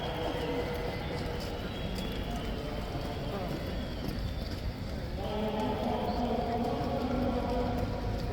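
Horse hooves of a military troop horse clip-clop steadily in a continuous rhythm on a hard surface, with outdoor noise and voices in the background.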